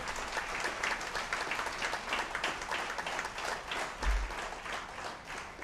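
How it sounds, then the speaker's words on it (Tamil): An audience claps for the volunteers who served food to more than a thousand people at a large gathering, producing a dense, fairly quiet patter of many hands that runs evenly for several seconds. "அவங்களுக்கு ஒரு கைத்தட்டு கொடுங்க"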